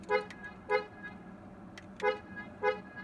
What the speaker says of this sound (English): It honks the horn.